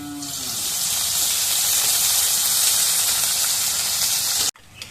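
Oil heating in a karahi hisses loudly and steadily, swelling slightly before cutting off abruptly near the end and leaving a quieter residual sizzle.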